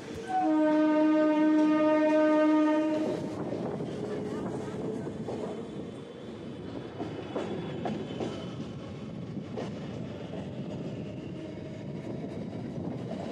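A Howrah–Bandel local train sounds a sustained horn, then rumbles along with rhythmic clatter toward Bally station, with faint voices in the carriage.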